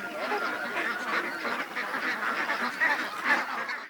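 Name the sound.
ducks quacking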